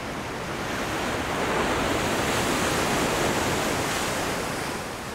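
Steady roar of the sea, dense broadband surf noise swelling slightly and holding loud and continuous throughout, with no voices.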